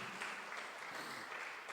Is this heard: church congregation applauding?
yes